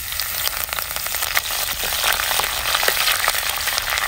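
Coconut oil tempering of urad dal, mustard seeds, dried red chillies and curry leaves crackles and hisses loudly in a pan, a dense continuous sizzle with small pops throughout.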